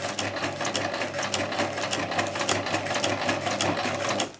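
Sewing machine stitching fabric for a spinnaker reinforcement, running steadily at close range with a fast, even needle rhythm and mechanical whir, uninterrupted throughout and without speech.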